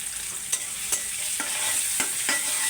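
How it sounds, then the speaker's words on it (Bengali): A potato dish bubbles and sizzles in a pan, a steady close hiss with a few sharp spoon knocks against the metal. "এবার খানিকক্ষণ একটু ফুটিয়ে নেব, তারপর নামিয়ে নেব।"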